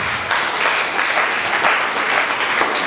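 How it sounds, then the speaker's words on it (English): Steady, dense applause from an audience at Esa Oke Microfinance Bank's annual general meeting, an even wash of many hands clapping throughout with no talk over it. "Can we give him another round of applause?"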